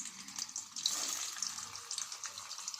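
Boiled eggs fry in hot oil with a close, steady sizzling hiss that crackles and pops in small bursts, with no voice over it.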